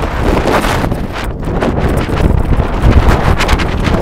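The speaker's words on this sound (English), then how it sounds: "This wind." Strong wind buffets the microphone at an outdoor high school baseball game, a loud, uneven rumbling roar with gusty surges that swell toward the end, no voices heard.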